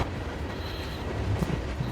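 A passenger train in the game Transport Fever 2 rumbles past with a rolling clickety-clack and a faint metallic wheel squeal, a steady close mechanical roar with no speech.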